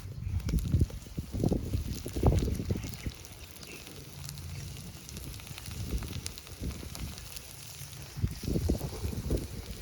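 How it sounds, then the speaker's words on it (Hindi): Wind blows across an outdoor cooking fire while aloo parathas are being made. Quiet, gusty low rumbles of wind buffet the microphone in uneven surges, with a faint crackly hiss running underneath. "देखा हवा चलती है ना तो आग बुझ जाती है।"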